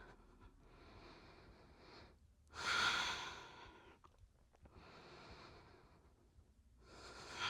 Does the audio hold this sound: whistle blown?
no